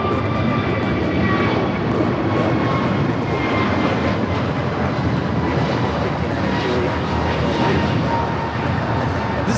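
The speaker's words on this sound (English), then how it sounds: "taking off to Charlotte on the A321neo" An American Airlines Airbus A321neo takes off from Los Angeles LAX toward Charlotte, engines roaring in a loud, sustained wash with faint voices underneath.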